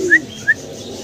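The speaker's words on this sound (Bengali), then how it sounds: "আরও এক জোড়া চমৎকার কবুতর দেখাচ্ছি" Pigeons at a breeder's sale give two short chirping calls in quick succession, close and fairly clear against a quiet background.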